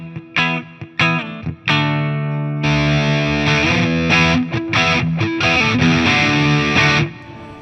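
Electric guitar played through a Keeley Super Rodent distortion pedal, first a few separate plucked notes, then loud sustained distorted chords and riffs ringing out with thick harmonics until a final cutoff.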